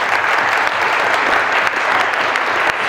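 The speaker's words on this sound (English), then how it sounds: "So please clap your hand just because." An academic audience applauds a newly promoted associate professor at a Work in Progress 2026 lecture event, a dense, loud wash of many hands clapping continuously and close throughout.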